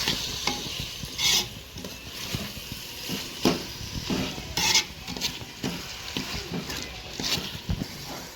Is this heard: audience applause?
no